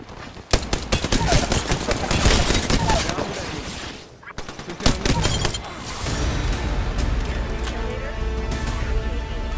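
Automatic weapons fire rapid bursts in an Apex Legends match. The close, loud rattling volleys cut out briefly around the midpoint and then resume more evenly, with a game voice speaking over the shooting.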